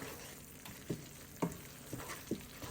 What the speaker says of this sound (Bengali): এখন হচ্ছে ভালো করে একটু কষিয়ে নিব